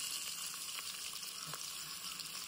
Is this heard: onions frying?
yes